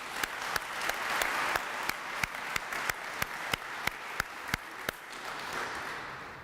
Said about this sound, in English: Let's give Dr. Helms a round of applause.